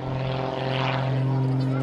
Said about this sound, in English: Now, shuts off the smoke, hangs by the prop, shifts into reverse, rolls the airplane backwards, continues to roll backwards.